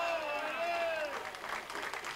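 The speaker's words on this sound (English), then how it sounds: "And here the crowd reaction to that." Crowd applause breaks out at an indoor bowls match, a steady wash of clapping that swells over the full couple of seconds, with a commentator's voice trailing off beneath it at the start.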